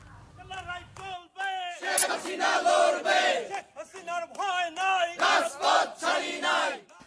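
A crowd of education directorate officials chants slogans in unison, loud and close, with a lead voice calling out and the group answering in rhythmic shouted bursts.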